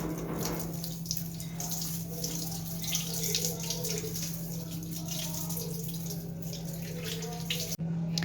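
Water runs continuously from a tap into a sink during washing, a steady close splashing stream with a faint hum underneath and a brief click near the end.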